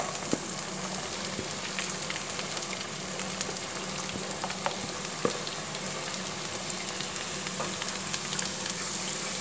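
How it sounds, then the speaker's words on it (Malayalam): Sliced onions and green chillies sauté in a pan of oil while cooking chicken, giving a steady, moderate sizzle with occasional crackles and stirring scrapes. "ഇനി ഇതിലേക്ക് നമ്മളുടെ സവാളയും പച്ചമുളകും കൂടി ഇട്ട് കൊടുക്കാം."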